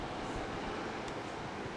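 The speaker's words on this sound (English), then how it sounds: "It's just the ceiling fans." A steady, even whooshing hum of air from ceiling fans fills the background, constant and low-level with no clear changes or other sounds.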